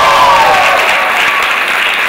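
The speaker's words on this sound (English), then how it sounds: "we're here now sitting there all clapping for you" Audience at a ROFLcon 2012 panel applauding steadily, a dense wash of many hands clapping close by that stays loud and even throughout, with no speech over it.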